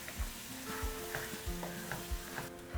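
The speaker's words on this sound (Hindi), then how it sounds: "बैंगन को अच्छे से मिला दिया।" A spoon stirs and scrapes a baingan bharta mixture of brinjal, onion, and ginger-garlic-green chilli paste in a pan. Several rhythmic strokes knock and scrape over a light sizzle, close and without talk.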